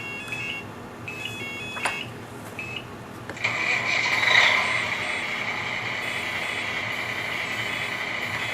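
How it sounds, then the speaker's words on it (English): Tamiya Grand Hauler 1/14 RC rollback truck, a few short electronic chirps, then a steady high backing beeper tone that holds through the rest, faint and close with light mechanical noise underneath. "backing beeper, yep"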